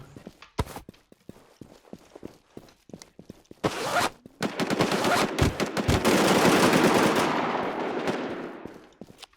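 Rapid gunfire in a battle royale shooter, bursts of sharp close shots in quick rhythm, then a sustained loud roar of sound under continued firing.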